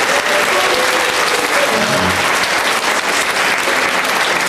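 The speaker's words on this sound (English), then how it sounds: "let's give them all a round of applause" Steady, loud audience applause fills a convention hall after a BotCon 2001 trivia contest, dense continuous clapping from a large crowd with no pause throughout.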